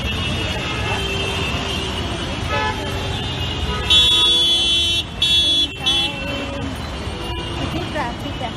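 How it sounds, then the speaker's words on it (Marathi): Busy street traffic in a Mumbai market near Crawford Market, with car and bus horns tooting repeatedly over a constant road rumble, under the crowd's chatter and nearby talking. "किती ट्रॅफिक आहे."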